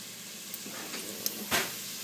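Oatmeal steaks fry in a pan on a gas range with a faint, steady sizzle, close by and quiet, broken by a couple of small clicks and one brief louder scrape.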